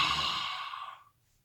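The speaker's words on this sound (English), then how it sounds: "exhaling forcefully" A single forceful exhalation during a seated yoga breathing exercise, a close, breathy rush of air that fades out over about a second, with no talking.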